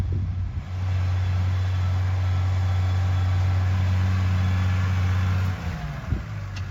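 A tractor engine runs steadily in a field while spraying weed treatment, a loud, constant low drone that holds for about five seconds before easing off near the end.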